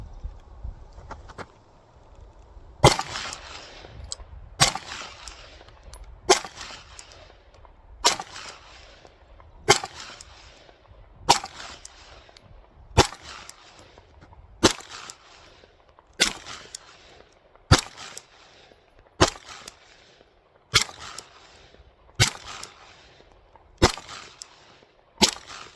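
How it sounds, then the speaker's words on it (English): Seventeen pistol shots fired through a Herrington Arms compensator outdoors, sharp loud cracks evenly spaced about every second and a half, each with a brief ringing tail, no talking. "We're going to go ahead and shoot this just to see if there's any problems with reliability or feeding"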